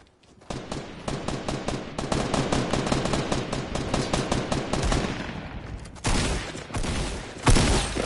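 Rapid automatic gunfire from a video game shooter, dense bursts of shots rattling continuously for most of the stretch, then a pause and a few louder, heavier shots near the end.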